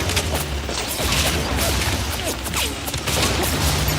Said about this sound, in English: Now it's just regular frag grenades.